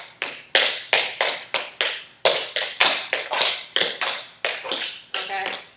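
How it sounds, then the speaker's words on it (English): Tap dancing done badly with the heels dropping to the floor, about fifteen sharp, close taps in an uneven, cluttered rhythm, some landing in quick doubles, with no voices. "if you drop your heels, I guarantee it's going to look and sound like crap"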